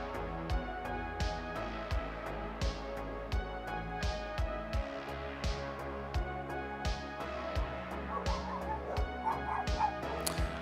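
Dogs barking and yipping outside, a steady run of short repeated barks at a moderate distance, mixed with a constant background hum.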